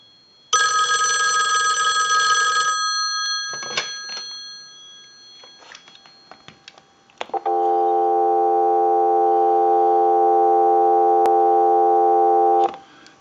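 A Western Electric 2500 desk telephone gives one last ring burst, then a few faint clicks, then a steady dial tone from a line analyzer hums for about five seconds until a click cuts it off.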